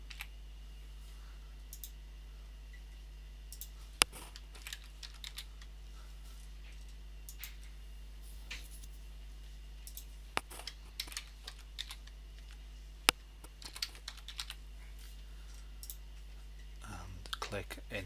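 Computer keyboard typing while entering a blog title during website setup, sounding as faint, scattered clicks and key taps in a quiet room with soft background hum, with a few sharper isolated clicks.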